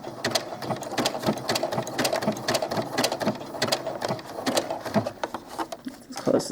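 A sewing machine stitches a seam in small doll clothes, running in a steady rapid patter of needle strokes with brief pauses and speed changes, close and fairly loud, with no talking.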